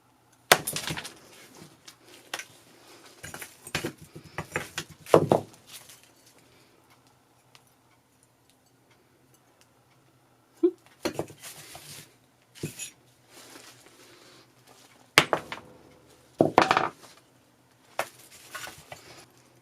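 An old clay piggy bank from an antique fair is smashed open, producing sharp cracking and shattering bursts with clinking shards and coins, in scattered clusters of loud, close hits separated by pauses.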